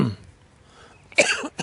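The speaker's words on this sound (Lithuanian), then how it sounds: "Atsiprašau už kosulį." A person coughs close to the microphone outdoors in a city park in Vilkaviškis, Lithuania: a short low cough at the start, a quiet pause, then a sharper, louder cough burst.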